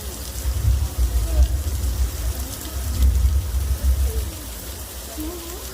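Steady artificial rain from a Universal Studios show effect patters and hisses continuously, a dense watery wash with low rumbling underneath.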